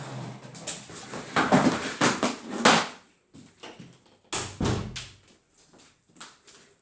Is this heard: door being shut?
yes